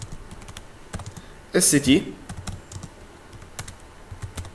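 Computer keyboard keys tapped while typing a SQL query, a scattered run of light clicks with a brief burst of faster typing, under a voice speaking in a lecture.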